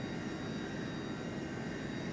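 Jet engine spooling up and settling after start in a home-cockpit flight simulator: a steady, even airy roar and whine with no change over the stretch, no voices.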